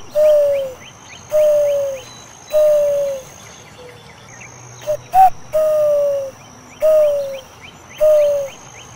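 A person imitates the call of a mourning dove with soft, descending hooting coos. The coos repeat about six times at a steady pace, close and clear, over faint insect and bird chatter in the background.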